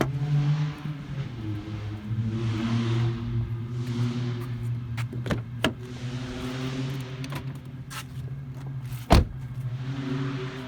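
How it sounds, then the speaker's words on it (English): A car out on the street goes by near a parked 2005 Toyota 4Runner, its low engine drone rising and steady for several seconds and mixed with a few sharp knocks and clicks close by, with no voices. "Not sure what that noise is. Somebody's car."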